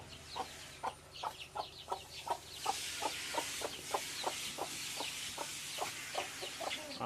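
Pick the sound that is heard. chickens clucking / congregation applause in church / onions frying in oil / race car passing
chickens clucking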